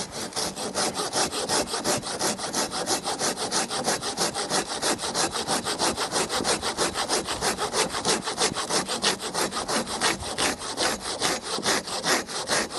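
A Silky BigBoy Japanese handsaw cuts through wood in fast, even strokes, a steady rasping rhythm close up and loud, with no voices.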